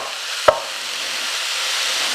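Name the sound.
food sizzling in a pan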